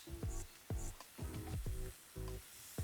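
Sea scallops sear in a hot pan, a steady bright sizzle broken by repeated clanks and scrapes as tongs turn them, close and fairly loud with no talking.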